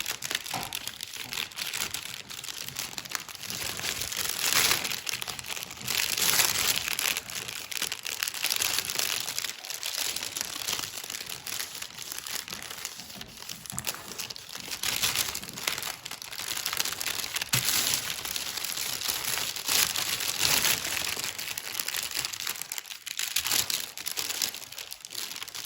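Origami paper being folded and creased for a Satoshi Kamiya Ryujin 3.5 dragon, a steady run of close crinkling and crackling paper rustles with no voices over them.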